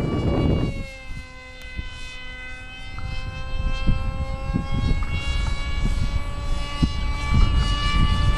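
RC F-117 foam jet flying overhead outdoors, a steady high-pitched whining motor tone holding on with slight pitch shifts, moderately loud over wind noise.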